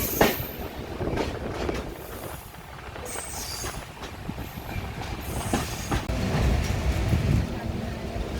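A Jan Shatabdi passenger train on the Mumbai-to-Konkan route rumbles along near Sawantwadi, with wheels clattering over the rails and squealing, heard from inside the coach with voices in the background.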